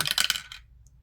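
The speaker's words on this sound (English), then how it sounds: "Roll the 6-sided die" A six-sided die clatters and tumbles briefly across a hard tabletop, a quick burst of small clicks that dies away within half a second.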